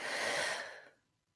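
A single deep exhale blown out slowly after a held breath during a guided breathing exercise, loud and close at first, then tapering off into silence.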